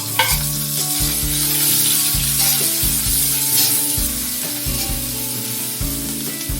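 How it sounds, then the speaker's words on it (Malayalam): Finely chopped shallots fry loudly in a hot pan, a dense constant sizzle with spatula stirring and scraping in repeated strokes, close and without talk. "നമുക്കിതൊരു ഗോൾഡൻ കളർ ആകാതെ വരെ ഒന്ന് വറുത്തെടുക്കാം"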